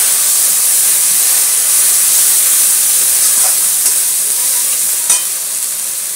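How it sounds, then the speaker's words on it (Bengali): Fish curry spices with turmeric frying and being stirred in a pan, a steady loud sizzle and hiss running throughout with a few faint scrapes, no voices. "এই মশলাটাকে দিয়ে ভালো করে কষে নেব।"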